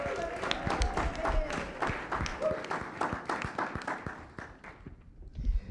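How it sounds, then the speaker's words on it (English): An audience in a church service gives a round of applause, a dense, fairly loud patter of many hands clapping that fades toward the end. "One more round of applause as a thank you for Etienne."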